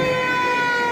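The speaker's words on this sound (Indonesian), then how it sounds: "Kemudian ada satu lagi mobil khusus yang menggunakan sirine adalah pemadam kebakaran." A fire engine siren sounds loud and steady, its sustained wailing tone held throughout the brief moment with no voices.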